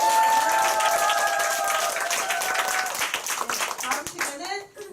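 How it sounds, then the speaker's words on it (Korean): An audience at a company group meeting and awards ceremony claps, a dense burst of hand claps that thins out toward the end, with a voice and tonal sounds heard at the start. "박수"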